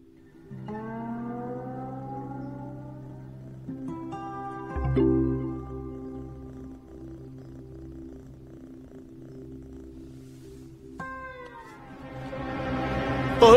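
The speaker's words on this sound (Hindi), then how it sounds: "अरे बाप रे, ये बिल्ली कहां से आ गई?" A cat meows several times in long, drawn-out cries, close and fairly loud, with no talking.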